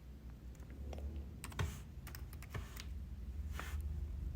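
Someone types on a computer keyboard with quiet, irregular key clicks and a few louder taps over a low background hum.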